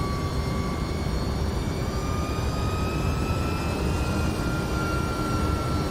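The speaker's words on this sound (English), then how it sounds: "You want a quick engine spool up with the engines running?" Heavy steady roar of MD-11 jet engines spooling up in the X-Plane 11 flight simulator, with a constant broadband rumble and faint rising whine tones held evenly throughout.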